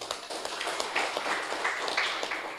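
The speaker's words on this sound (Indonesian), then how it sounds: "Tepuk tangan untuk NU." A crowd applauds in honour of NU at a speech: dense, fairly loud clapping from many hands, continuous and close, with a few sharper individual claps standing out.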